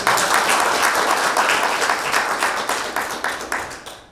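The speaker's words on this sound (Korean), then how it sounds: "큰 박수 부탁드립니다" An audience at a chamber of commerce CEO academy inauguration ceremony gives a warm round of applause, clapping in a loose, pulsing rhythm that thins and fades toward the end.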